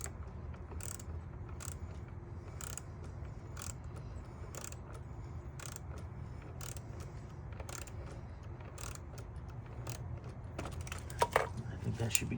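Faint, irregular ratcheting clicks come from a worm-drive hose clamp being tightened on the air intake hose of a 2012 Honda Civic, heard over a low background hum.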